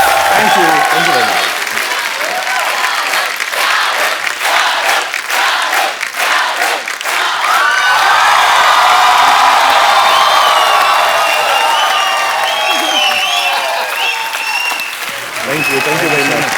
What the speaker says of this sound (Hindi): जोरदार तालियां एक बार शाहरुख भाई और आलिया भट्ट के लिए।